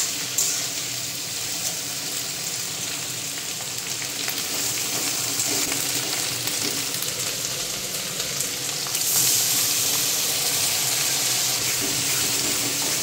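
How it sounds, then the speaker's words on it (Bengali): Prawns fry in a pan of hot oil, giving a continuous, dense sizzle and crackle that holds steady throughout and grows slightly louder near the end, with no voices. "এদিকে চিংড়ি মাছটাও ভাজা হচ্ছে"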